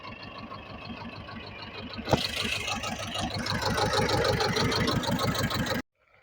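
A T-25 tractor engine idles close by with a steady low chugging pulse, growing rougher and louder partway through before cutting off abruptly near the end.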